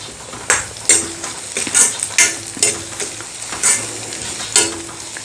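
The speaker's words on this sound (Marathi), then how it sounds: "ही डाळ सुद्धा आपल्याला थोडीशी या कांद्याबरोबर परतून घ्यायची आहे" Matki dal with onion stirred in a pan, a spoon repeatedly scraping and knocking against the metal at an uneven, steady pace over a faint frying hiss, close by and without talk.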